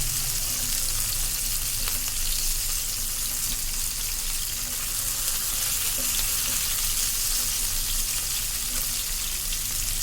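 Fish pieces shallow-frying in hot oil in a pan, a dense continuous hiss and crackle held at an even level for the whole stretch, close and loud, with no voices.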